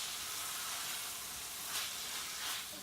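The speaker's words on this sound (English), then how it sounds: "Can you hear that sizzle?" Lamb mince fries in a hot pan with a dense, steady sizzle and hiss, close up, with a couple of brief louder spits as it is stirred.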